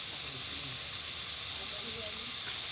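Pabda fish cooking in a pan on a gas stove, a steady bright hiss of sizzling oil that holds even and continuous throughout, with a faint click partway through.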